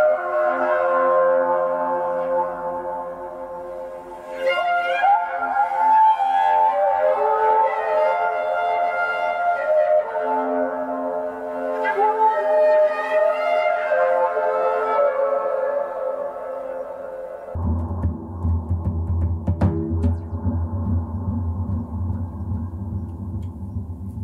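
A physically modelled Yaybahar, a string linked through two springs to two drum membranes, rings out in long, hugely reverberant tones that swell and glide, then drops into a deep booming, rumbling low drone near the end, with no voices.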